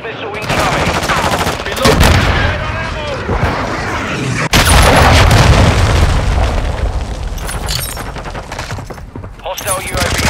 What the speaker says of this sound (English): Hostile cruise missile incoming!